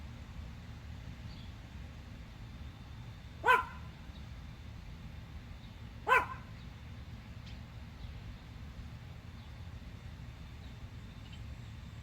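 A dog gives two sharp, separate barks a few seconds apart, fairly close and clear against a quiet indoor room tone.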